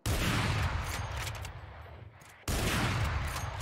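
Bursts of gunfire from a Valorant weapon ring out in a dense, loud volley, break off briefly, then resume just as hard.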